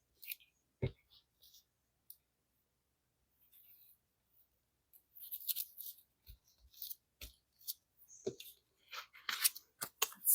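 Scissors snip paper for a Christmas junk journal: scattered faint clicks and short cutting snips close by, growing into a busier run of crisp cuts toward the end, with occasional soft speech.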